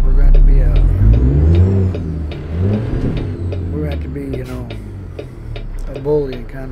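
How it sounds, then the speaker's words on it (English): Busy road traffic in American Truck Simulator, with cars passing and engines rising and falling under a steady low truck drone while someone talks throughout. "There's a lot of cars. This road here is really busy"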